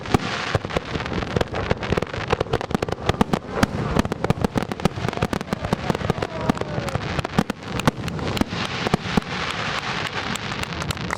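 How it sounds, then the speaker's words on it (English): Fireworks display over a lake, a dense rapid crackle of bursts and pops going off continuously, loud and fairly near for the whole stretch. "around the shoreline for the 4th annual Dueling Fireworks show"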